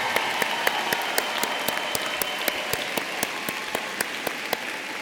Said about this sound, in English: Now please give them a nice round of applause.